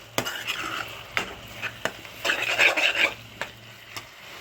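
Ginger garlic paste stirred and fried in a pan on high heat, with a steady sizzle and repeated scrapes and clinks of a spoon against the pan, growing busier in the middle.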